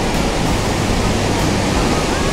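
The Quetzalapan waterfall in Puebla, Mexico, pours down as a loud, dense, constant roar of falling water, heard up close with no pauses.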